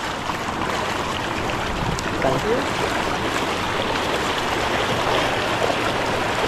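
Strong river current rushing past, a steady broad wash of flowing water close by, with brief voices talking over it.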